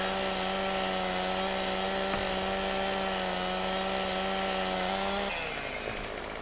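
A Unimog-mounted stump grinder in Farming Simulator 17 droning at a steady high-revving whine for several seconds, then spinning down and fading as the pitch drops near the end.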